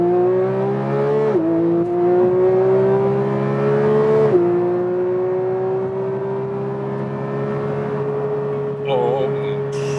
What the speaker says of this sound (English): There's less sound dampening, so you hear more of the engine